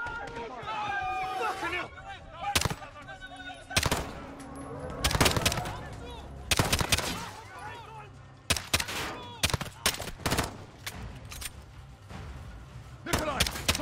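Gunfire in Call of Duty Modern Warfare, sharp loud bursts and short automatic volleys scattered unevenly between quieter stretches, with voices talking throughout.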